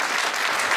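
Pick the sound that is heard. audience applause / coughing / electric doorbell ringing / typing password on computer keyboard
audience applause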